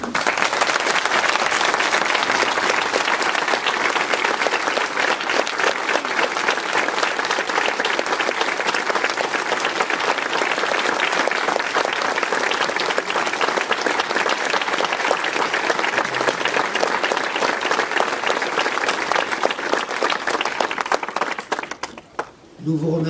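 A standing audience at a French municipal campaign meeting gives long, steady, dense applause that holds evenly for over twenty seconds before quickly tapering off at the end.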